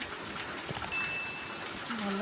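Steady rain falls outside a home, a soft even patter that runs for the whole stretch without a break, with faint background sounds but no clear talk.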